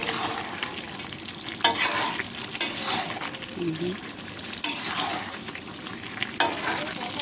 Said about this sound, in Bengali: তো এখন মাংস রান্না হচ্ছে।